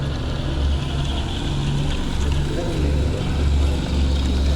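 Steady electric motor whine of an RC Moth biplane taxiing on springy undercarriage wheels, a continuous droning hum that pulses slightly in intensity throughout.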